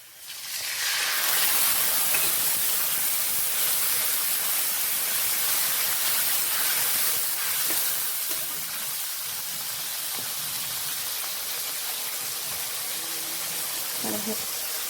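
Ginger, garlic and green chili paste hits hot oil with fried onions, and a strong steady sizzle erupts and hisses on continuously, easing slightly later, with faint kitchen clinks near the end.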